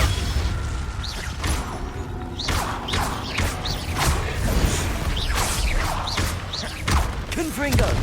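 Repeated spell blasts in Hogwarts Legacy, a rapid series of booming impacts and whooshing swishes with rising tonal zaps, loud and dense throughout, over a rumbling game background.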